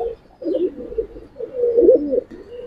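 A silver pigeon coos in a steady, close run of soft throaty rolls that swell and fade over a few seconds, with no talking.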